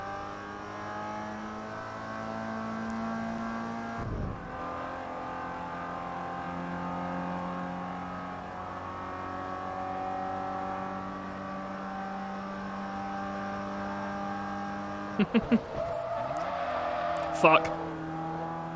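Mazda MX-5 Miata race car drifting in Forza Motorsport 3, a steady droning engine note that holds and shifts pitch through the bend, with tire squeal and scraping bursts near the end and a man swearing over it.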